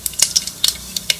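Mustard seeds and urad dal hit hot oil for tempering, a close sizzle with sharp crackling pops coming in quick irregular bursts.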